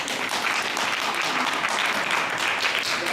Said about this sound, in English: I'm gonna give him a clap.